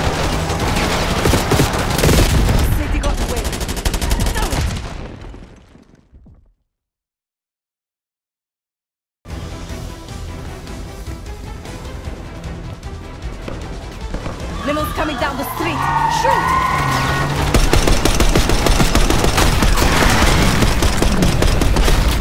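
Call of Duty: Black Ops 6 gunfire on PC erupts as dense, loud bursts of automatic and rapid shots, drops to a brief silence, then resumes with sustained firing and booms under shouted voices.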